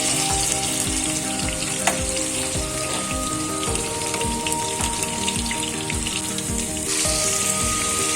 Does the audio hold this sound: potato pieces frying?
yes